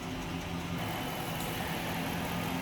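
A 5.7-liter Hemi V8 in a 2006 Dodge Charger R/T idles smoothly and steadily, a low even rumble with no revving, heard up close.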